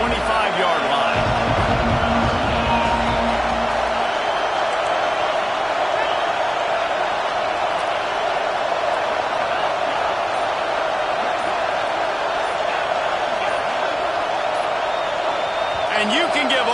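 Loud, steady roar of a stadium crowd at a college football game between Georgia and Texas A&M, a dense wall of cheering and noise sustained throughout, building to drown out the offense before a false start.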